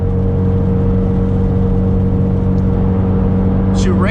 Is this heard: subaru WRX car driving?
yes